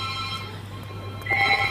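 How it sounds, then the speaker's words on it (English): A telephone rings indoors with a steady electronic tone over a low hum, the ring growing louder and clearer toward the end, with no voices. "Sorry about the phone call"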